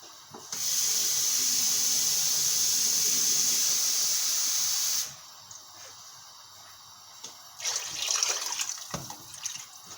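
Broth is poured into a hot pot of organic vegetable peel soup, producing a loud steady hiss for about four seconds, followed by quieter bubbling and light kitchen clatter.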